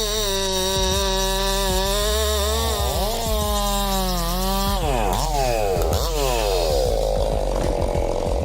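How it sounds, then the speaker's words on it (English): A chainsaw with a 24-inch blade cuts through wood, its loud, close engine whine rising and dipping in pitch as the chain bogs into the cut, running continuously throughout. "When we hear the sound of the chainsaw and feel the vibration when sawing wood, we can see its power."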